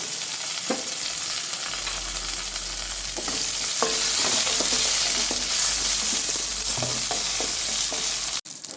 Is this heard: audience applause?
no